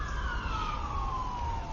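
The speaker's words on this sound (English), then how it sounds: "You got some early morning sirens going." Early morning emergency sirens wail in the distance, a steady wavering tone that slowly falls in pitch, heard alone over faint background hum.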